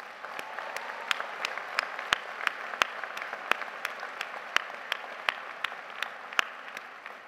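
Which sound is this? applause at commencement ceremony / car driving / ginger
applause at commencement ceremony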